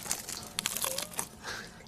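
Crusty bread of a lamb burger being broken apart by hand, a few dry crinkly crunches and snaps close up, quiet and brief with no talking.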